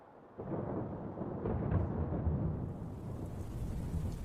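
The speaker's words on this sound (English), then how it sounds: "the sudden onset of rain downpouring on the lookout tower" Heavy rain pours down on a wooden forest lookout tower during a sudden storm, a dense steady roar that starts abruptly and holds, with a low rumble of thunder beneath it.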